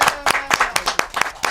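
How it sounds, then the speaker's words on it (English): A small studio audience clapping, a handful of sharp, irregular claps spread over a second and a half, fairly close and without talk. "If you would clap us off, okay."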